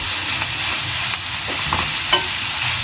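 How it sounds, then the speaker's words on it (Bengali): Vegetables for fried rice cook in a frying pan, stirred with a spatula: a loud, close, continuous sizzle with repeated scraping strokes and small clatters, no voices. "নেড়ে চেড়ে মিশিয়ে সবজিটা পারফেক্ট সিদ্ধ হওয়া পর্যন্ত এটাকে"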